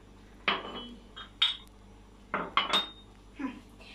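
Drinking glasses are set down one by one on a kitchen counter while making a soufflé at home, giving five or six distinct clinks and knocks, close and fairly crisp, with no talk.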